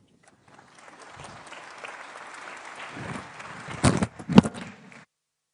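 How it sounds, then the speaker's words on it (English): Applause from the audience at the close of a panel session at a NATO summit in Turkey, starting as faint scattered claps and swelling into louder sharp bursts before stopping abruptly. "Another round of applause."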